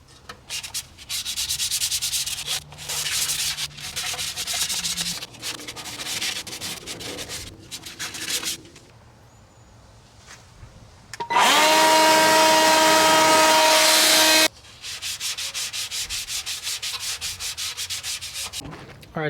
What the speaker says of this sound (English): let's go ahead and finish sanding this and make it all nice and smooth just like that side